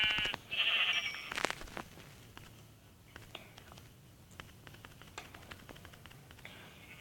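Sheep bleating in a survival video game, with one loud bleat near the start and then quieter clicks and small game sounds, close, with no talk over it.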